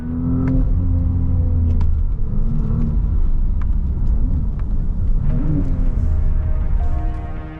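Engine and exhaust of a 2027 Audi RS5, a steady loud drone with slight rises and falls in pitch as the car drives, heard up close with no talk over it.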